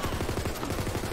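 Rapid automatic fire from a gold pistol in the Borderlands 3 video game, a loud, dense burst of evenly spaced shots filling the whole brief moment.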